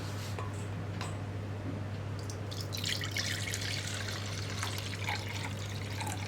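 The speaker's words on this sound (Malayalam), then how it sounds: "ഇത് ഞാൻ ഒഴിക്കുമ്പോൾ ഒന്നുകൂടി ഒന്ന് അരിച്ചിട്ടേ ഒഴിക്കുള്ളൂ." Second-press coconut milk is poured through a strainer into a vessel, making a continuous trickle and patter of liquid that grows busier partway through, over a low steady hum.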